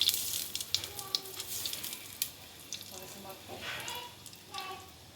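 Cumin seeds and asafoetida powder frying in hot oil in a pan for a Tamil greens kootu, giving a soft, fairly quiet sizzle with scattered crackles and pops over about five seconds.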